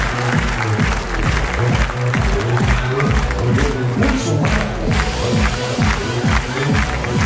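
An audience cheers and applauds as a backing track kicks in, the crowd noise blending with loud, thumping rhythmic music throughout.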